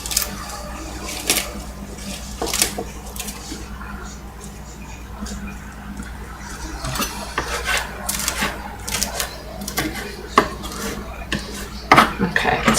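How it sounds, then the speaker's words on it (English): Coarse chopping of herbs with a knife on a cutting board for a chile relleno casserole, heard as scattered sharp knocks at an irregular, quickening pace over a low steady background hum. "it's just a very coarse chop"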